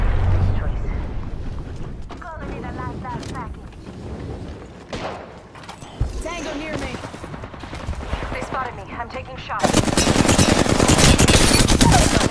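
Gunfire from the battle game Apex Legends, played as Bangalore. It sounds as scattered close shots and rapid bursts among character voice lines, ending in a loud, sustained volley of automatic fire.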